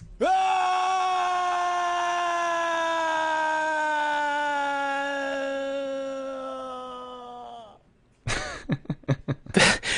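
Falling scream effect from the video game Overgrowth: a long, loud, slowly descending human scream lasting about eight seconds, then a brief gap and several sharp choppy bursts.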